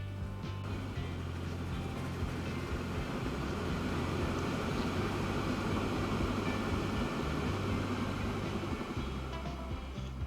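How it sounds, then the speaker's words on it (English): A loaded oil train rolls along the tracks in the Transport Fever 2 game, giving a steady, continuous low rumble with engine drone that holds level throughout. "Oil train's coming down."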